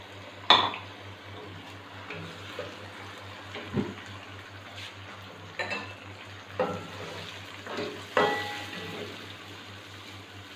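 Tomato paste added to lightly browned onions frying in a pan for a potato and egg curry, a soft steady sizzle broken by occasional spoon scrapes and clinks against the pan.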